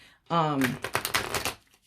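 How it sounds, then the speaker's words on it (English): A tarot card deck shuffled by hand, a quick close riffling flutter lasting about a second, with a voice briefly heard at the start. "But Amy, go ahead and continue to shuffle this deck."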